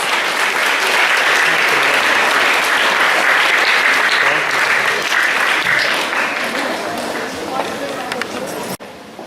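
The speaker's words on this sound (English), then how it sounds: "Please welcome them with a huge round of applause." A school literary festival audience claps in a sustained round of applause for the finalists, loud and dense for about eight seconds before thinning out near the end.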